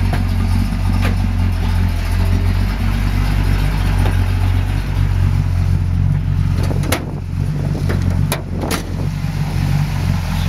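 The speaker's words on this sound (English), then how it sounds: "there's the uh, completely rebuilt 400 Pontiac Ram Air 3 engine" A completely rebuilt 400 Ram Air III V8 in a 1970 Pontiac Trans Am idles steadily and close up, a constant low rumble with a few sharp clicks near the end.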